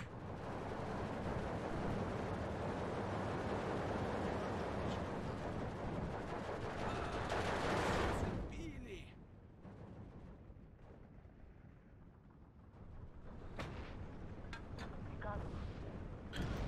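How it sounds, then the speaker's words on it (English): Mortar and gunfire in the WWII strategy game Steel Division 2, a dense roaring barrage of explosions and shots that abruptly drops off, followed by scattered sharp distant reports. "Let's go ahead and start mortaring these."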